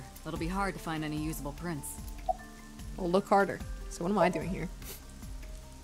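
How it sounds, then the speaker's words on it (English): Steady rain falls throughout a scene in the video game AI: The Somnium Files, a soft continuous hiss beneath voices talking. "This rain is awful, huh? It's unusual for this time of year."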